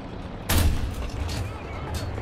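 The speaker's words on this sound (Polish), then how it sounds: "Zrzucili arty, nic nie widać." Artillery explosions in War Thunder, one heavy boom followed by a few duller distant blasts amid low background rumble.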